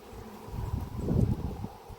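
Honeybees swarm around an open hive at an apiary in robbing season, stirred up by a wasp: a dense, continuous close buzz that swells in the middle and then eases.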